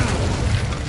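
A fiery Incendio spell blast in Hogwarts Legacy, a dense, loud burst with a deep low rumble that holds steadily for under a second.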